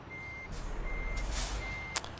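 A truck backing into its garage in Euro Truck Simulator 2 gives three evenly spaced reversing beeps over a low engine rumble, with loud hisses of air releasing between them and a sharp air-brake burst near the end.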